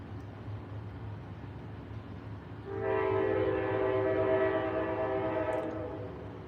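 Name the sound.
train horn blowing as train passes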